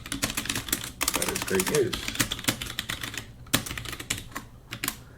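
Rapid computer keyboard typing, a steady run of sharp, close clicks with short pauses, while a person talks over it.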